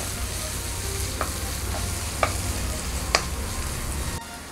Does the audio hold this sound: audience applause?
no